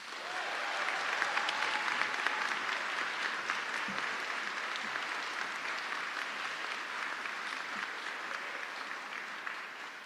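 A mock trial national championship opening ceremony audience applauds to welcome President Jennifer Collins, a steady, full crowd clapping that continues evenly throughout without a break.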